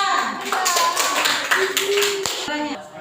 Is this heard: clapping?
yes